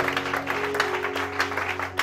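A church congregation applauds during a French-language worship service, a steady mid-level wash of clapping over a low held organ or keyboard drone.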